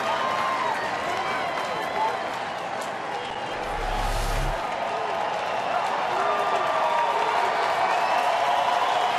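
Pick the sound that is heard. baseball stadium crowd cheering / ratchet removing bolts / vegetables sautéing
baseball stadium crowd cheering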